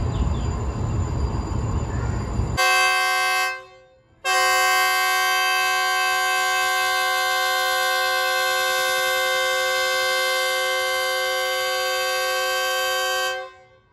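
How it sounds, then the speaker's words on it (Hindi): Loud, sustained horn of a Pakistani pilgrim special train carrying Hindu and Sikh pilgrims to Nankana Sahib, sounding close with rich harmonic tones: a short blast, a brief break, then a long continuous blare of about nine seconds. "ज़बरदस्त हॉर्न है जियो 40 का"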